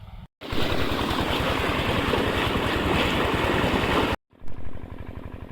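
Water rushing steadily into a dry, cracked farm field in a village, a loud continuous broadband gush that cuts in and out abruptly at the start and end.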